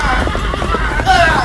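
A horse whinnies loudly in a staged Islamic drama about the Hijrah pursuit, its neigh rising over hoofbeats and layered voices as the animal stumbles and falls.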